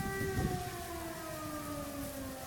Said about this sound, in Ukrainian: А ні, це, мабуть, початок повітряної тривоги, то був відбій.